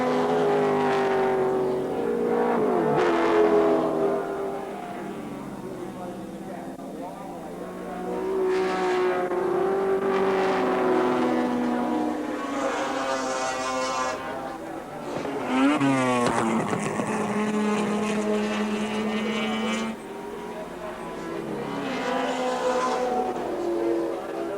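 Group C touring cars racing at Wanneroo Raceway during a 1984 championship round, their engines surging and fading as they pass, with rising revs and one sharp pass near the middle, heard from trackside at moderate loudness.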